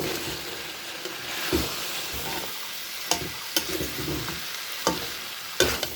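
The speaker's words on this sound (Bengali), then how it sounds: "এখন ছোলাটা দিয়ে দেবো, ছোলা দিয়ে কষিয়ে নেব।" Boiled chickpeas sautéed in spice masala in a pan, a continuous close sizzle under repeated scraping stirs and a few sharper knocks against the pan, with no voices.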